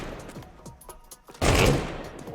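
Gunfire in Counter-Strike 2 sounds as scattered sharp shots followed by a sudden loud burst of rapid fire that fades toward the end.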